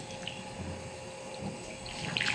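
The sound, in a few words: pouring hot water over coconut meat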